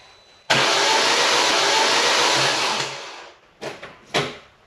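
A Vauxhall Zafira GSI with a Z20LET engine, newly fitted crankshaft and spark plugs out, cranking over: a loud steady whirring churn for about three seconds, then two short bursts of cranking, no talk.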